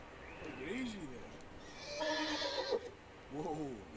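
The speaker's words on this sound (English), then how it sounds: "Whoa. Take it easy there." A horse in the video game Red Dead Redemption 2 neighs in several loud, quavering whinnies: one early, a harsher burst in the middle and another near the end.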